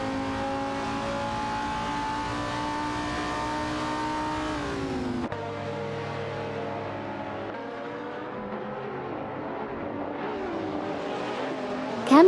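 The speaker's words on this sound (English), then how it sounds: "Speed and Sheer with the Nissan 350Z GT300 and Marks, and Meyer with the Ferrari F430 GTC are really putting on a show." Video game race cars, among them a Nissan 350Z GT300 and a Ferrari F430 GTC, roar at high revs, an engine note dropping and shifting as cars brake and accelerate, loud and continuous with no speech.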